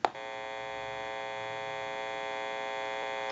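Steady electrical hum from the amplifier of a Western Electric 202 rotary desk telephone and bell box under repair, a sharp click at the start, then a continuous buzzing drone at even loudness with no talk.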